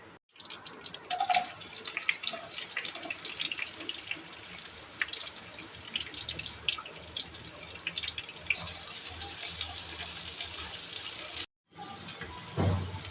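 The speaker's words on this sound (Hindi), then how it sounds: "कढ़ाई हमारी गर्म हो चुकी है, इसमें हम डाल रहे हैं 1 कप ऑयल। इसके बाद डालेंगे प्याज" A cup of oil and onions sizzle in a hot kadai while making street-style Lahori chickpea cholay. The hiss is steady, broadband and close, with a brief silence near the end before the crackle returns.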